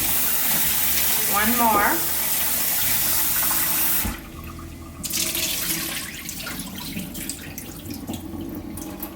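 Rice being rinsed under a running kitchen tap for rice pudding, a loud steady rush of water that drops to a softer trickle partway through, with a brief voice and a whistling tone early on.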